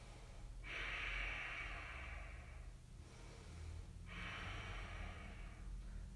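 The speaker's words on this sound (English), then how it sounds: "breathe, breathe, breathe" Two long, deep breaths in a live Ashtanga yoga class, each a steady rushing inhale-exhale of a few seconds separated by a short pause, close and fairly soft.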